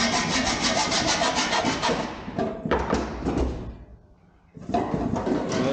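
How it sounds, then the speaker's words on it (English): A hand saw cuts out the edges of a valve box cover with a Krimp cover, giving steady broadband rasping strokes for about two seconds, then shorter bursts, a brief near-silent pause, and a return to continuous sawing. "I have also to cut out here these edges. So I'm gonna do it with a saw"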